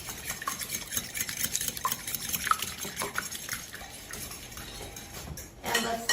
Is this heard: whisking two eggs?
yes